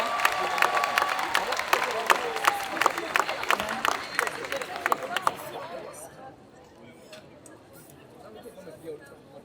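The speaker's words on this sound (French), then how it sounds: "On applaudit bien fort nos accessoristes parce que ce sont quand même un peu nos héros de concours" Audience applause at a cosplay contest, greeting the prop makers: dense, loud clapping with scattered sharp claps and some cheering for about six seconds, then fading to a quieter murmur.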